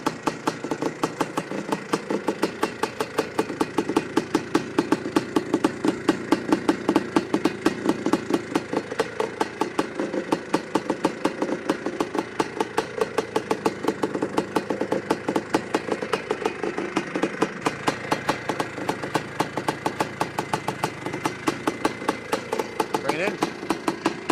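A 1976 Suzuki RM370 dirt bike engine idles with a rapid, steady putter, close and even throughout, its rhythm holding firm for the whole stretch.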